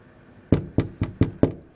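Five firm, evenly spaced knocks on a door, close and loud, each a sharp thud with a short decay, with no talking.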